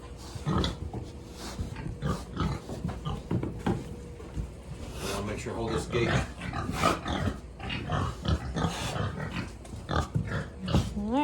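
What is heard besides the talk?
pigs grunting on farm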